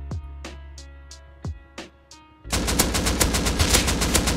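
M2 heavy machine gun firing in the game Rust: a few single spaced shots, then a sustained rapid burst of loud, dense automatic fire for the last couple of seconds.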